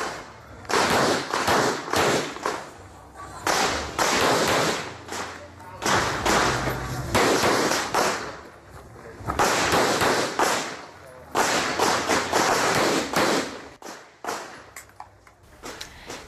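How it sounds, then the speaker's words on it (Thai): Rapid gunshots ring out in loud, repeated strings at an outdoor IDPA practical shooting competition, each volley of sharp cracks separated by brief pauses, with some talk in the background. "ยิงปังๆแบบนี้"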